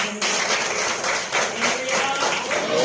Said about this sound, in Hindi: ताली मारी प्रभु को